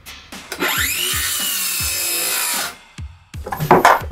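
A circular saw cross-cutting a wood board: a few knocks, then a loud whining cut lasting about two seconds that spins down, followed by clattering as the pieces are handled.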